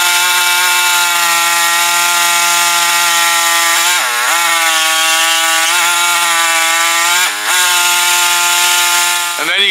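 A saw blade cuts into plastic housing with a loud, high, buzzing whine that dips briefly in pitch twice as the blade bites under load, close up and continuous.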